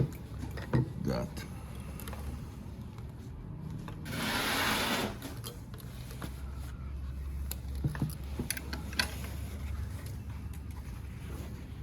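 Kansai DLR 1509PR chainstitch sewing machine in a workshop, sounding as a faint whirring hum with one louder, busier burst of stitching in the middle and scattered small clicks, with a voice talking at times.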